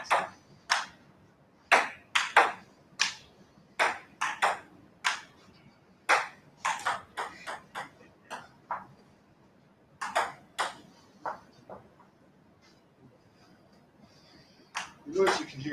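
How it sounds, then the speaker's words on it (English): A ping pong game in a shared room: sharp ball pings and paddle taps in irregular rallies with pauses, moderately distant, under a quiet room hum and no talk over them. "The noise you can hear in the background is ping pong."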